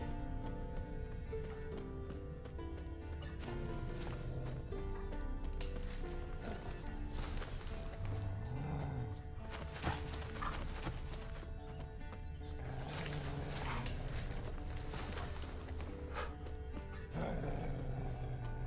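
A horse in The Witcher 3: Wild Hunt, clopping hooves and a snort or whinny heard over continuous game music and ambience, with the hoof sounds coming in intermittently at moderate loudness.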